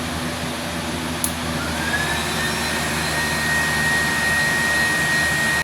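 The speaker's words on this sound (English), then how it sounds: "I also have a vacuum cleaner I can turn on" A vacuum cleaner powered through a solar power station's inverter runs with a steady, loud whirring drone from start to finish, with no one talking.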